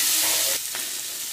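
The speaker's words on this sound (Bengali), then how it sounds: "মূলোটাকে একটু ভালো করে ভেজে নিয়ে" Radish pieces with chili, salt and turmeric fry in a pan, giving a steady, close, loud sizzle that drops to a softer hiss partway through, with a brief stir-like scrape.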